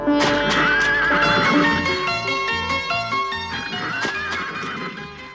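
A horse whinnies in a loud, shrill, wavering neigh, heard twice over a backing of rhythmic musical tones, with no one talking.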